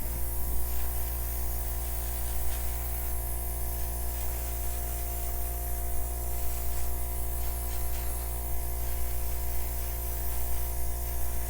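A cordless airbrush sprays acrylic pour paint in a steady, unbroken hiss that runs loud and close for the whole stretch, with a faint electrical hum beneath it and no talking.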